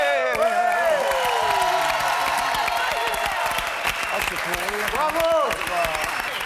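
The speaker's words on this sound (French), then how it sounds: "Les applaudissements reviennent." Dense audience clapping and cheering fills a live comedy show in Las Vegas, steady and loud throughout, with occasional whoops and voices rising over the crowd.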